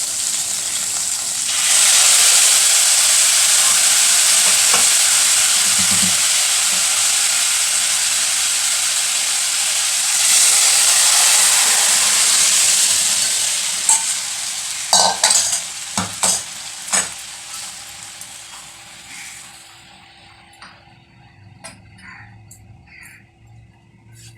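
Green chillies drop into hot oil and fry in a pan with a loud, close sizzling hiss that swells twice and gradually fades, followed by scattered clanks and scrapes of stirring.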